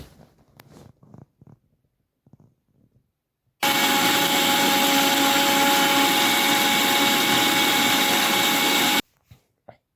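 An electric kitchen mixer grinds mint, garlic, ginger, grated coconut and green chillies, running as a loud, steady whirring roar for about five seconds after a few faint clicks and taps, then stopping abruptly.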